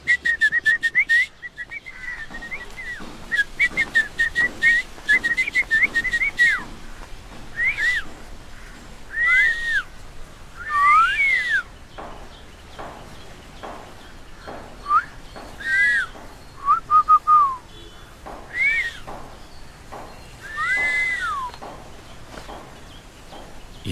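Two people whistle a playful tune back and forth in a film scene, clear melodic whistled phrases trading in short bursts over quiet background, no speech.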